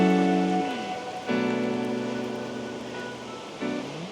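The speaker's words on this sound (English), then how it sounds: "So we finally made it down to the waterfall." Catrigg Force, a double drop waterfall in a snowy landscape, a steady rushing roar of falling water heard under tonal music.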